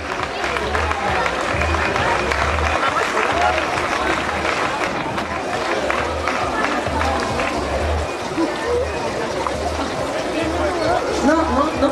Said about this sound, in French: on peut effectivement tous l'applaudir très fort